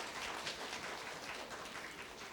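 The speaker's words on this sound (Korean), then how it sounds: "박수 한번 보내주시기 바랍니다" Steady applause from an audience at a student court competition, a quiet, fairly distant wash of clapping that continues evenly without talk.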